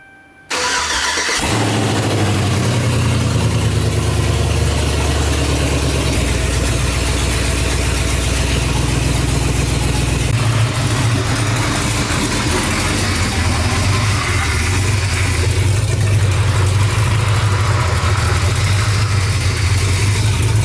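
A loud Chevrolet Silverado truck engine starts and settles into a deep, rumbling idle through an open exhaust, continuous and close, with no voices.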